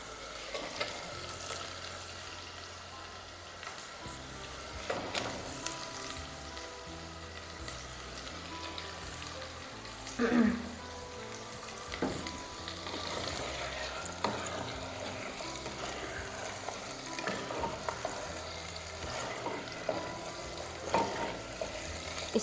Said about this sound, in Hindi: हम इसमें चिकन को डाल के फ्राई कर लेंगे